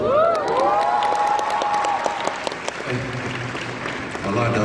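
Audience applause and cheering at a national youth conference, a dense burst of clapping that tapers off over a few seconds as a voice starts speaking.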